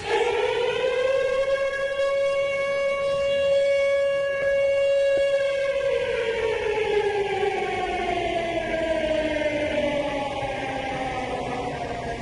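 A civil defense siren wails steadily at a high pitch, then slowly winds down in pitch, loud and continuous with no voices, played on a radio show.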